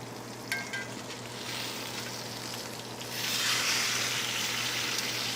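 Blackened Cajun steak sizzles and fries steadily in a cast iron pan on a stovetop, a constant crackling hiss that swells louder partway through, with a faint tick or two near the start.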